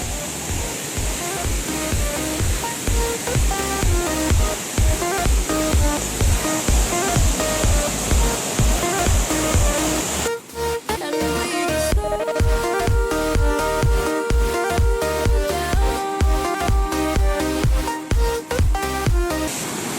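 The Neer Garh waterfall in Rishikesh roars steadily and loudly nearby, a continuous rush of falling water that is partly covered by music playing over it.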